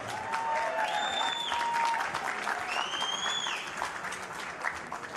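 Big round of applause from a fight-night crowd at the Caribe Royale in Orlando, Florida, honoring both fighters; dense, steady clapping fills the hall throughout, with faint cheers and whistles riding above it.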